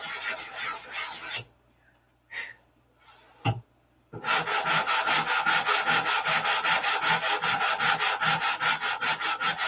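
Sandpaper scrubs a surface in a hangar with fast, rhythmic back-and-forth strokes, loud and close; a short burst, a pause with a couple of isolated scrapes, then a long steady run of even strokes.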